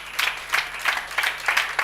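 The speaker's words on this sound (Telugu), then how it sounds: "గట్టిగా చప్పట్లు కొట్టండి" A sermon audience claps in steady rhythmic unison, with moderately loud bursts about three times a second and no voices over it.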